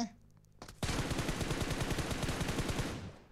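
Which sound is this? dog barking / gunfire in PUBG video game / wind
gunfire in PUBG video game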